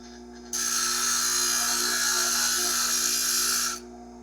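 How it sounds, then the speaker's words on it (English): A bench grinder grinds a steel tool edge in one steady, harsh, high-pitched burst lasting about three seconds, close and loud over the motor's constant low hum, then stops abruptly. "Now that we have ground this tool on the bench grinder"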